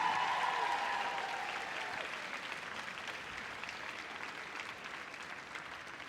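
Audience applause for the Heelwork to Music 2025 winner at Crufts, a dense sustained clapping from a large indoor crowd that starts strong and tapers slightly, with a voice briefly audible near the start.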